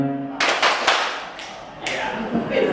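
Hands clap along to a children's action song, a few quick sharp claps followed by looser bursts, fairly close, with singing voices and a voice heard around them.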